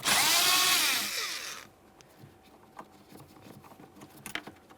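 A power driver spins out a 7mm mounting screw from the dash of a 2013-2020 Ford Fusion, a loud whirring buzz for over a second that winds down, then quiet ticks and small clicks of handling nearby.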